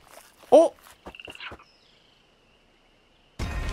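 A frog in the video game Waltz and Jam gives one loud, close croak, then a few softer chirps and clicks, followed by quiet and a sudden burst of game noise at the end.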